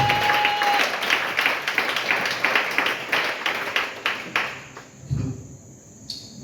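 A church congregation claps and applauds in a rhythmic, sustained wave across a hall, with hand claps fairly close and steady before thinning out near the end.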